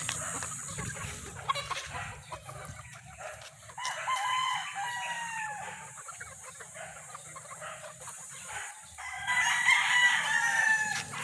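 Roosters crow loudly in drawn-out calls amid steady clucking from chickens at a game farm, with two prominent bursts of crowing standing out over a busy background of fowl noise.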